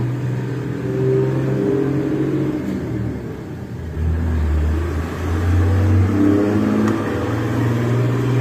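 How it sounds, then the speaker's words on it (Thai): Steady road traffic rumbles nearby, with engines swelling loudly as cars pass one after another, no talking. "อันนี้มันติดถนนนะคะรถมันเสียงดัง"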